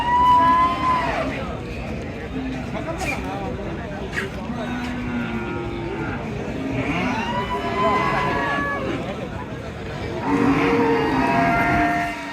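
Cattle moo repeatedly, some near and some farther off, at a crowded Qurbani cattle market in Bangladesh. A steady din of crowd chatter and people talking continues underneath.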